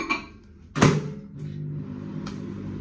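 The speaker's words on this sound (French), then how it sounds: "je vais venir le mettre au micro-ondes pour que ben, ça fonde en fait" A microwave oven warming plain milk: a door or button clunk, then a loud thud as it starts, followed by a steady low humming drone with a faint beep-like click later.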